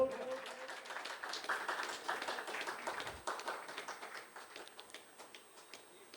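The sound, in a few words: audience applause at a ceremony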